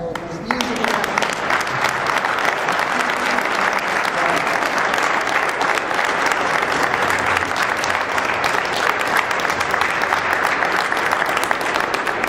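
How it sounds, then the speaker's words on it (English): Audience at a Bound Brook, NJ borough council reorganization meeting gives Carey a long, loud, sustained round of applause, dense clapping filling the room throughout. "Everybody, just give applause for Carey."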